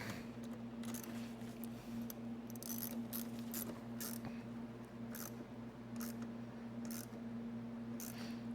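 A hand ratchet tightening the battery hold-down bolts on a 2013-2019 Ford Escape during a battery swap, giving repeated short clicking bursts at an even pace over a constant low hum.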